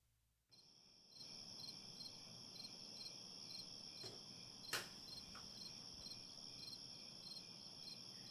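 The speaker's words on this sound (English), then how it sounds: "You can have some crickets as you wait." Steady crickets chirp in a continuous high-pitched trill with no pause, layered over a low background hum and one brief knock midway, with no voices.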